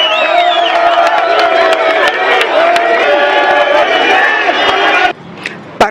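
A large crowd at a rally in the Democratic Republic of Congo roars with acclamations and cheering, loud massed voices and whoops sustained for several seconds before stopping abruptly.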